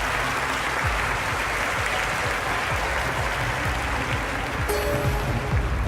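Crowd applause from the London 2012 Olympic video game, a steady dense clapping that fills the scene continuously and loudly throughout, with faint background tones near the end.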